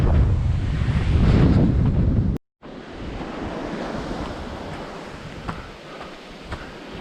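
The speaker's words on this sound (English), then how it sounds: "Oh, that wind." Strong wind gusting on a coastal hill during a trail run at Wilsons Prom, roaring and buffeting the microphone with a surf-like rush, heaviest at the start, with a brief dropout midway before a lighter steady blow.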